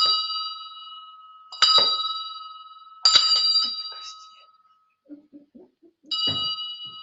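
A copy of the Novgorod bell rung ceremonially to open a conference: four bright, ringing strikes spaced about one and a half seconds apart, each decaying slowly, with faint room murmur in a pause.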